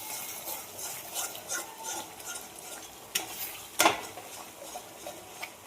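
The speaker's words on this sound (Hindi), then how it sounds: "अब इसको कर देती हूँ मिक्स चीनी को।" Sugar being stirred into wheat-flour halwa in a pan, with a soft steady sizzle under repeated scraping strokes of a spoon and a louder metallic clatter near the end, no talking.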